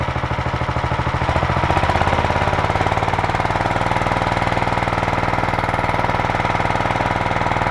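A portable Alkon fire pump engine runs loud and close with a fast, buzzing chug that rises in speed and pitch after a second or so, then holds a steady, higher rev.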